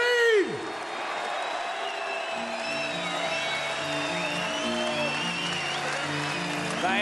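A packed auditorium crowd cheers, whoops and applauds steadily for a new boxing world champion at a Danny Green versus Stipe Drews fight, with music rising beneath the roar.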